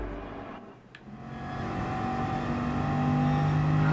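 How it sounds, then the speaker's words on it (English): A car engine in a driving video game revs and roars steadily, rising in intensity with a sustained tonal drone, loud and close throughout. "The engine on this car sounds crazy."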